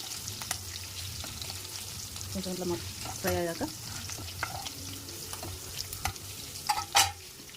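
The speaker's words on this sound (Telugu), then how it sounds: "పచ్చిమిర్చి కొంచెం ఫ్రై అయ్యాక" Green chillies fry in a pan for wheat rava upma with a constant close sizzle. Stirring scrapes and clinks break in now and then.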